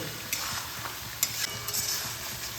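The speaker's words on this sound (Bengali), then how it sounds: "এই মশলাগুলো আমি খুব ভালোভাবে চিকেনের সঙ্গে কষিয়ে নেব।" Spices being sautéed with chicken in oil in a pan, a low continuous sizzle broken by a few scraping stirs and light clinks of a spoon against the pan, close up with no talking.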